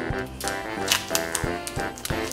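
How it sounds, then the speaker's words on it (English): A cheese stick's plastic wrapper is opened in a kitchen, giving a series of sharp crinkling snaps and tearing clicks at an irregular rhythm, close and fairly clear. "So you're gonna need to open your cheese stick."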